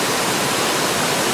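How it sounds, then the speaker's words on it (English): Chikiganya Falls, a wide waterfall on the Coomera River in Queensland, pours with a dense, steady roar of rushing water that fills the air without a break. "Another really pretty waterfall on the Coomera River. This one is Chikiganya Falls."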